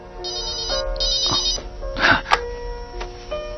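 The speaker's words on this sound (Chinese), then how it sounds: "我接个电话。" A telephone rings indoors in a Chinese crime drama scene, a bright repeating electronic ringtone in short bursts, clear and close, with a few small knocks and rustles between rings and no talk.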